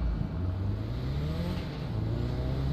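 A Volkswagen Golf engine in the video game GTA 5 drones and rises steadily in pitch as it accelerates, a continuous close-up motor hum.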